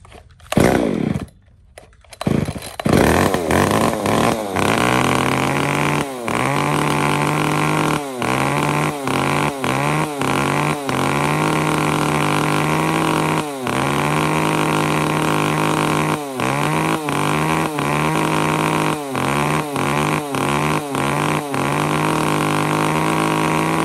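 A used Japanese-market chainsaw of the STIHL, Echo Kioritz, Shindaiwa or Komatsu kind starts, then runs loud and close at a steady high idle, with brief throttle dips and revs repeating throughout.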